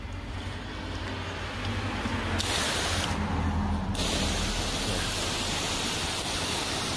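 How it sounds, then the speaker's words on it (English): A spray bottle mists P&S Defender over a beaded car surface in a close, continuous broadband hiss that swells louder partway through, with no talking. "More of a mist, a light mist action."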